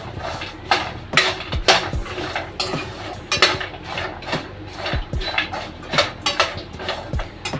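Fennel and other seeds are dry roasted in a pan, with repeated sharp clinks and scrapes of a spoon against the metal pan in an uneven rhythm, fairly close and without talk.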